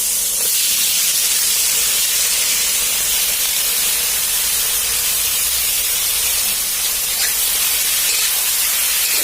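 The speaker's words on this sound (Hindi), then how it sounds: "अब हम एमे करेला डाल दी छियै।" Sliced bitter gourd tipped into hot mustard oil with turmeric, giving a loud, steady, close sizzle and hiss that runs unbroken throughout with no talk.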